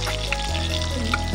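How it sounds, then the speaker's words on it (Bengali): Chicken pieces fry in hot oil for a Chinese-restaurant style chili chicken, a steady close sizzle with a low hum of the stove underneath and no talking. "বাকিগুলো ঠিক সেম প্রসেসেই ভাজতে থাকবো"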